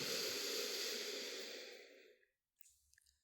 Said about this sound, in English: Draw the breath in.